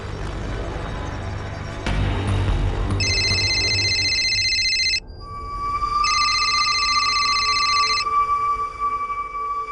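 A telephone rings in two long electronic bursts separated by a short pause, loud and close, with a sustained tone lingering in between and background noise early on.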